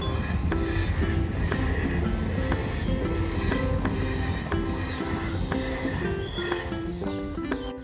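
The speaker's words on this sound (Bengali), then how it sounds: "এই দেখো ট্রেন যাচ্ছে" A train rumbles past in Murshidabad, West Bengal, with continuous rolling noise and rhythmic clacks, while faint music tones and a few bird chirps sit in the background.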